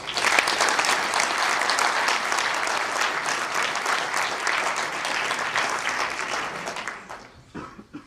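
An audience claps steadily and warmly to welcome Congressman Barney Frank, sustained dense applause that fades out near the end.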